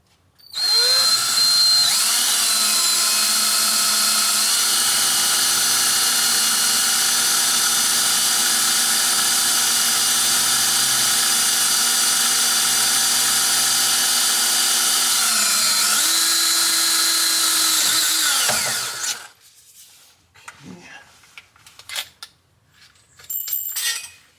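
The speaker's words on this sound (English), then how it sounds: "Try and drill this one all the way through to the other side." A power drill bores a pilot hole for rear brake lines on a 1977 Camaro Z28, whining loudly and steadily for about eighteen seconds with small pitch dips, then stopping into faint clinks and handling noises.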